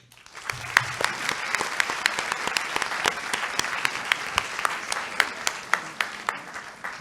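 Audience applause at a medical anesthesia conference after a clinical case presentation, a dense steady wash of many hands clapping with sharp individual claps standing out, sustained throughout at moderate loudness.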